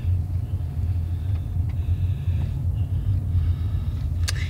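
Cab interior of a Prime Inc. truck on the road: a loud, steady low engine and road rumble fills the whole stretch, with a few faint rattles on top and no talking.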